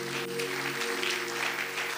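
Congregation applauding during a church service, a steady wash of clapping for two seconds over a sustained low tonal hum from music or instruments.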